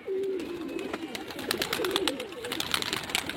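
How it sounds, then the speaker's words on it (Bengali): Giribaz pigeons in Murshidabad cooing steadily, close by, with soft broken calls and fluttery textures over a faint outdoor background, no talking. "এই একটা পায়রার বাজি দেখি।"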